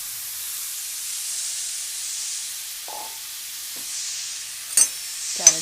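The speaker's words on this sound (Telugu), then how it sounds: "ఇప్పుడు ఇదే ప్యాన్లో మనం ముందుగా తురిమి పెట్టుకున్నాం కదా క్యారెట్ అంతా వేసేసేయాలి." Grated carrot sizzling in a pan with ghee for carrot halwa, a steady broad hiss with a few soft stirring scrapes and clinks near the end, no talking.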